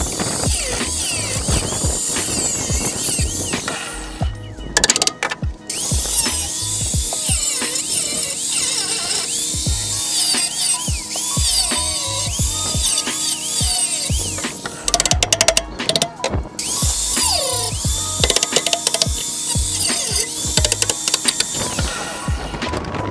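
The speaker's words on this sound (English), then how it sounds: "I'm gonna drill these holes and I'm gonna pop some rivets into here" Loud, continuous drilling into metal frame rail with a power drill for rivet holes on an Acura Integra chassis, grinding, ratcheting whine, briefly pausing a couple of times before starting again.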